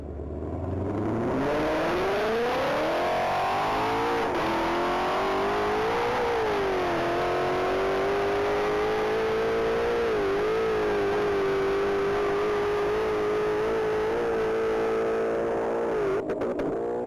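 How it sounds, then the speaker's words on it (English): A white 2020 Ford Mustang GT 500 launches and accelerates hard down a mile-long racing track, its engine note climbing through gear shifts into a sustained high-revving roar that holds loud and steady. "looks like we have Angelique Morris back at the line in their white 2020 Ford Mustang"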